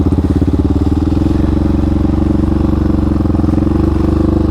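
Quad ATV engine held at high revs during a powerslide, a loud, steady, buzzing drone with a fast rhythmic pulse and faint clatter, close and constant throughout.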